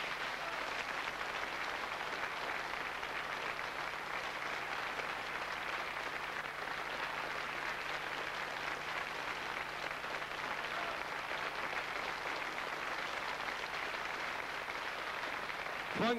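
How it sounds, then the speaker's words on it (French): Sustained audience applause for French orchestra leader Franck Pourcel, a long, even roar of many hands clapping at moderate distance, steady for the full duration with no speech on top. "Je vous demande d'applaudir car on le voit jamais, monsieur Franck Pourcel."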